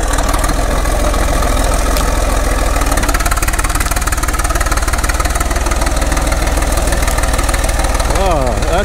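Caterpillar RD6 crawler tractor engine working at full load to pull a big stump, a loud, steady diesel chugging with rapid regular firing pulses throughout, close and continuous.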